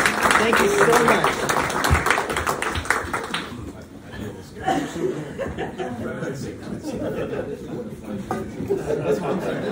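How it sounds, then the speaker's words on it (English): A seated audience at a construction company event claps and chuckles for a strength performer, with a burst of applause at the start that fades into scattered laughter and chatter. "Round of applause for Martine"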